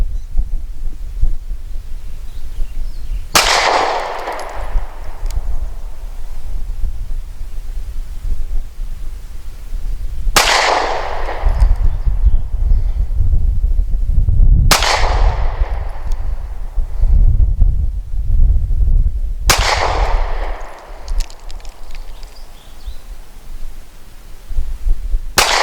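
Four sharp pistol shots from a short-barrelled Diamondback DB9 Gen 4 crack out several seconds apart, loud and close, each with a brief decaying tail over steady outdoor wind noise.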